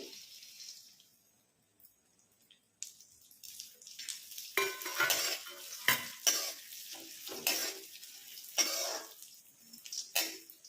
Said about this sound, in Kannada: ಈಗ ನಾನು ಗೋಡಂಬಿ ಹುರ್ಕೊಳ್ತಾ ಇದ್ದೀನಿ ತುಪ್ಪದಲ್ಲಿ